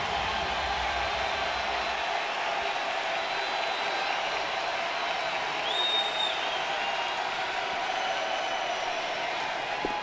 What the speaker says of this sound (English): The crowd comes to full throat.